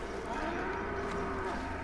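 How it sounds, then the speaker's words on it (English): A cow in the Far Cry Primal video game lets out a single drawn-out, nasal moo of moderate loudness over a faint game backdrop. "Look at the moo."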